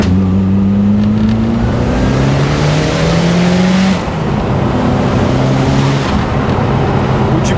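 A Ford Escort RS Cosworth, a tuned rally-style car, accelerates hard with a loud, continuous engine note whose pitch climbs steadily through the gears, with a brief dip around a shift before revving up again, close to the microphone.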